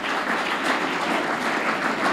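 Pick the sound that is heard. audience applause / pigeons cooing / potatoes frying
audience applause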